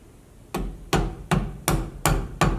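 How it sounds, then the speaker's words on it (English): A mallet drives a small carving gouge into a wooden Old World Santa figure: six sharp, close knocks at a steady, brisk rhythm, loud and alone with no talking. "Just gonna go around here with a smaller gouge"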